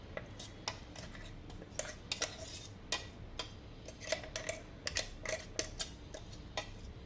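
A spoon scrapes and clinks against a jar and dish while curry leaf chutney made with green chillies is scooped in, giving a series of close, light, irregular ticks and taps with no talk.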